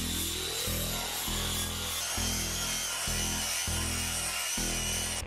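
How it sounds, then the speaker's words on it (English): A flap wheel on a grinder works the face of a car's rear brake caliper brackets on an MR2 Spyder, a loud continuous abrasive whine with steady pulsing passes, close and without talk. "So I got the flapper wheel and we're gonna get to grinding just the very face"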